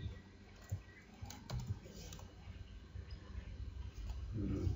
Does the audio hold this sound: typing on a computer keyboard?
yes